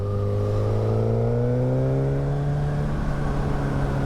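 A tuned Suzuki GSX-S1000 GX motorcycle engine pulls hard under acceleration, its loud, close roar climbing steadily in pitch through a single sustained rev with no talk over it.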